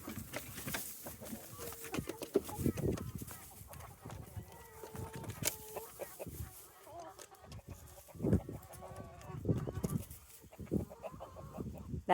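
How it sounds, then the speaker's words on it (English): Chickens and roosters on a farm at morning chores, clucking steadily with repeated crowing calls, close and fairly loud, with scratching and patter in the background. "the chickens and the roosters are trying to let us know clearly"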